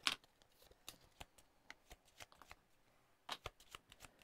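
Cards for the Lost Ruins of Arnak board game being shuffled, a quiet close series of crisp riffling bursts and light taps spread unevenly across a few seconds, with no talking.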